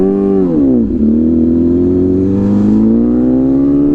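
Loud hyper naked motorcycle engine while riding, revs dipping briefly then climbing steadily in a smooth, rising whine close to the rider.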